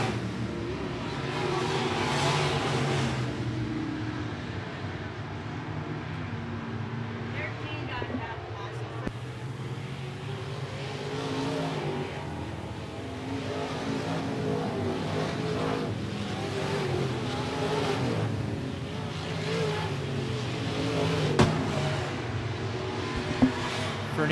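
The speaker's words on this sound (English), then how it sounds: "Corey Cox, one of the faster cars on the racetrack" Modified race cars roar around the I-76 Speedway oval, a dense continuous engine drone that rises and falls as the pack circles. A commentator talks steadily over it throughout.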